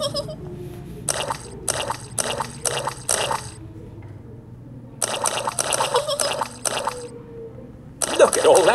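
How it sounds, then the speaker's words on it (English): Splashing in muddy puddles from a Peppa Pig cartoon, with Peppa and Suzy Sheep jumping about: repeated bursts of watery splatter in quick runs, mixed under cheerful voices singing and talking. "Look at all that splashing."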